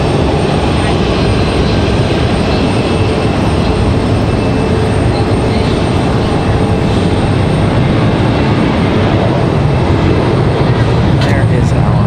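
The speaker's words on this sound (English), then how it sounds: "Looks like we got a Max 8 ready to roll." A Boeing 737 Max 8 airliner at Raleigh-Durham airport, its engines a loud, steady broadband roar and rumble that fills the whole stretch without letting up.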